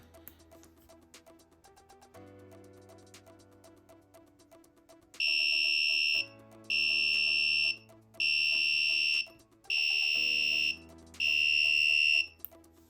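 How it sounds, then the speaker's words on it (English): Five loud electronic beeps from an Explorer 1v2 device on startup, signalling a missing component, in a steady rhythm, each about a second long with short gaps, over a low background hum. "So it's beeping at me, letting me know that a component is missing"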